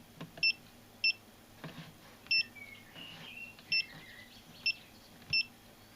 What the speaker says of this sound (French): Alors, il y a un petit bip. Il n'est pas désagréable.